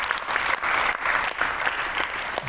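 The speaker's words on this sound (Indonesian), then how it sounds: "mari kita beri tepuk tangan untuk komisi kita ini." Steady, dense applause from the audience at a commission session, a continuous wash of many hands clapping together, moderately loud and sustained for a couple of seconds with no voices over it.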